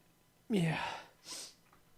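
A single close sneeze with a sharp vocal onset, followed by a softer breathy exhale.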